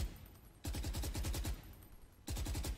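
A suppressed gun in a video game fires in two rapid bursts of muffled, evenly spaced shots, the first longer, the second cut short, with only faint background hum between.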